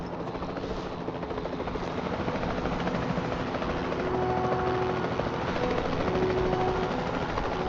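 Steady, continuous helicopter rotor and engine drone from the Jurassic World Evolution 2 game, loud and constant throughout with a faint tonal whine rising in the middle, no speech.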